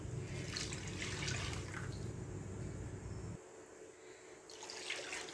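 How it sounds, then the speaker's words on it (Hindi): Water, about four glasses, pours steadily into a pot of dal, a continuous splashing rush that drops off partway through, leaving a softer trickle. "अब हम यहाँ पर पानी ऐड करेंगे।"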